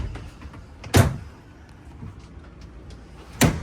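Two cabinet doors on a coat closet in a 2026 Forest River Sierra 4002FB fifth wheel RV open with a brief thump and rattle each, the first near one second and the second about two and a half seconds later, in a quiet interior.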